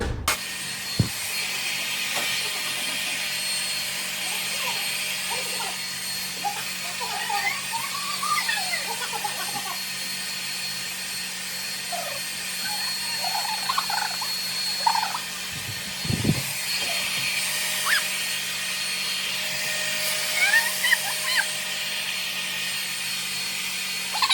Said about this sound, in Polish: teraz weźmiemy suszarkę do włosów